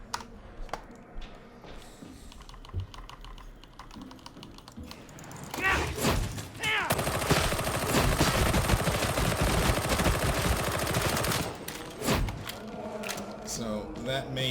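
Shredder autogun fire in Warhammer 40,000: Darktide, with Blaze Away and Pinning Fire, a dense sustained burst of rapid shots lasting several seconds at close range, preceded by quieter game sounds.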